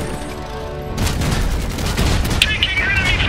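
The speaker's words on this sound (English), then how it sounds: "Taking enemy fire!" Gunfire from the video game Iron Harvest, a loud dense fusillade of overlapping shots and booms that keeps going after a short lead-in, with game voice lines mixed in.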